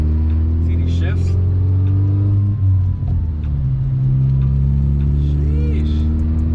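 10th-gen Honda Civic Si with an Acuity adjustable short shifter accelerating hard, the engine note climbing, dropping at a quick gear change, then rising again, loud and steady with a voice over it.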